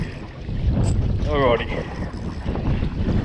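Wind gusting across a small fishing boat drifting over a fishing spot, a steady, close rumbling roar of wind buffeting the microphone throughout, with one brief spoken word partway through.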